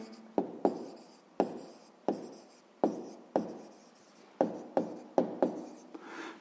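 A pen writes an answer onto paper for a sixth-grade maths exercise, in close, quiet, scratchy strokes arriving in short repeated bursts with brief pauses between them. No voices.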